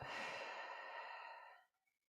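A single long, deep exhale during a guided breathing exercise, close and breathy, lasting over a second and a half before fading into near silence.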